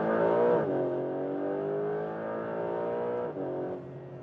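A Porsche 911 GTS Hybrid engine heard from the cabin on a smooth race track, a loud steady drone with rich layered harmonics, a brief dip near the start and another before the end as revs shift, with no talking.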